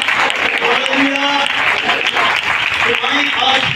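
Church congregation at a convention in Vasay, Pakistan claps steadily and loudly, with sung or chanted voices carried above the applause throughout.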